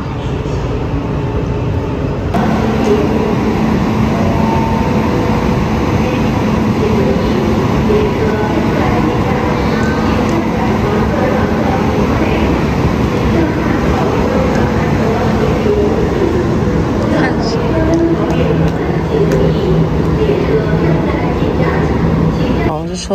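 A Tianfu train waits at a huge, crowded railway station, heard as a steady low rumble of rail and crowd noise with voices talking throughout.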